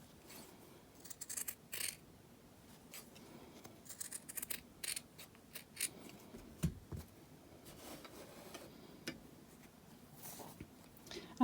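Quiet scissors snipping through fabric to trim a sewn seam allowance: small, irregular clicks and cuts, soft and close, scattered throughout.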